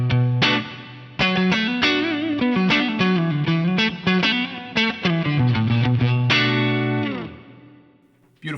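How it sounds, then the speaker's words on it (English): Strat neck pickup played through an Axe-Fx III Vibrolux amp model with light compression: a continuous, shimmering lead phrase of sustained, evenly picked notes with a chorus-like sheen, ending on a ringing chord that fades out. "I'm currently on the Vibrolux model with a bit of compression on the neck pickup of my Strat."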